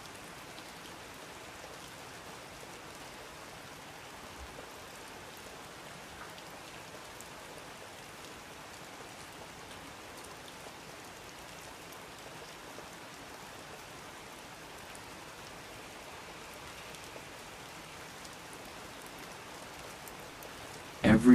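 Steady rain falls in Morocco, a soft, even hiss of drops that runs unbroken and fairly quiet throughout, with a brief bump right at the end.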